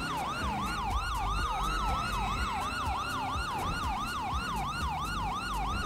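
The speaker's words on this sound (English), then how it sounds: "These sirens are killing me, man." Several overlapping wailing police sirens in Grand Theft Auto V, sweeping up and down in a steady rapid cycle, loud and continuous throughout with a vehicle rumble underneath.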